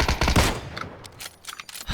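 Rapid bursts of automatic gunfire in the battle royale game PUBG, sharp loud cracks in quick succession that thin out into scattered shots, with no talking over them.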